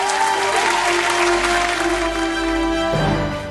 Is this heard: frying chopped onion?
no